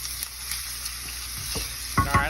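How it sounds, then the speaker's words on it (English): Steady sizzling of yellow onion frying in hot olive oil in a pan, close by, with a couple of stirring scrapes near the end. "Hear that sizzle?"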